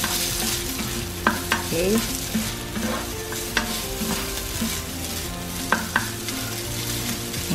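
Garlic fried rice stirred in a pan, continuous close sizzle with periodic scraping clicks of the spatula; a single brief spoken word appears.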